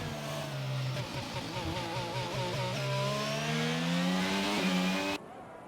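An AlphaTauri race car engine in a racing simulator screams on an out lap, a loud close whine that climbs through the revs, dips briefly at shifts, then keeps rising before cutting off abruptly near the end.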